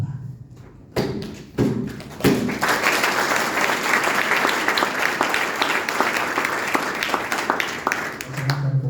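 A seminary audience applauds at the opening of the 2023-2024 odd semester, starting with a few isolated claps and thuds before swelling into sustained, loud, dense applause.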